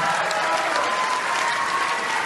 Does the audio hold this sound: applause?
yes